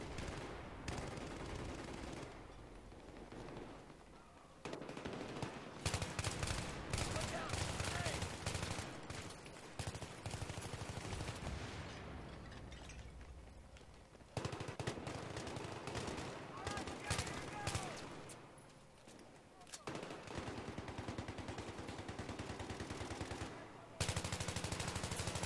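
Sustained machine gun fire in Battlefield 3, long loud automatic bursts that stop and restart several times, broken by short quiet gaps, with a player talking over parts of it.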